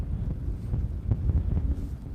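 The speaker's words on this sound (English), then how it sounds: "Windy as heck out there by the sounds of it" Strong gusts buffet a microphone outdoors on a rainy day by the water while fishing for pike, a low rumbling roar that swells and fades in uneven bursts, close and loud with no voices.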